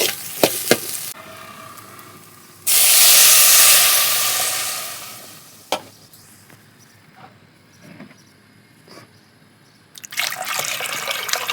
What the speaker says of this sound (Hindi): थोड़े चावल भून करके इसमें पानी मिलाना है।